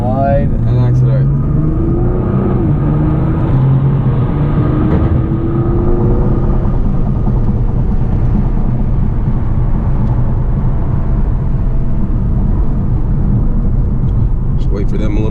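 Nissan GT-R at full throttle on a racing circuit, a loud continuous engine roar with rising harmonic tones as it accelerates, heard from inside the car under an instructor's talk.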